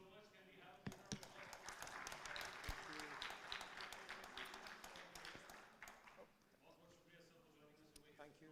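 Audience applause at a design summit and awards ceremony, a sustained crowd clapping with scattered sharper claps, swelling early then thinning out toward the end.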